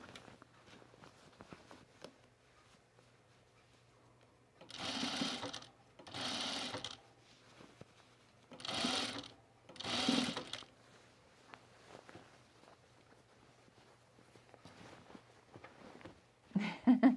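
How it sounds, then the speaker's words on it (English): A sewing machine stitches down tucks on a pajama top in four short whirring runs, each a few seconds long with pauses between, over a faint low hum. "I'm about to sew those down."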